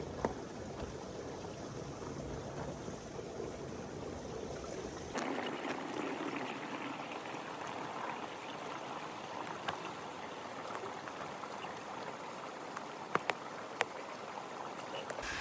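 Mountain stream water flowing steadily along a forested trail near Colonial Creek in the North Cascades, a continuous broadband rush that grows fuller and closer partway through, with a few brief clicks near the end.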